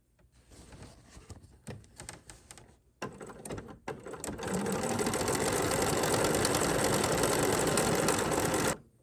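Sewing machine stitching lined napkins, a few short bursts and pauses at first, then a steady rapid mechanical whirr running continuously for several seconds before stopping abruptly.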